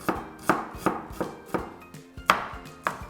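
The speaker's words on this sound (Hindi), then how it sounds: "जब तक ये गर्म हो रहा है हम काटेंगे रफली" Knife chopping ginger and green chili roughly on a board, about eight crisp evenly spaced strokes, close and clear in a quiet kitchen.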